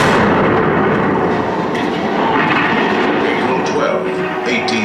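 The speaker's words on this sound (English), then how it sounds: "Fort Sumter, the cannon spoke for war." Heavy cannon fire at Fort Sumter booms in a dense, continuous barrage, loud low rumbles layered with sharper blasts and a voice buried in the din.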